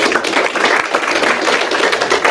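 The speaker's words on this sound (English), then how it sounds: "Round of applause" A team leadership meeting breaks into a round of applause for football player Josh Adams, loud, dense clapping that fills the room evenly from start to finish.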